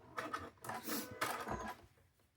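A sewing machine stitches a fabric chicken quilt block, two short close bursts of quick mechanical whirring and clicking separated by a brief pause, fading out at the end.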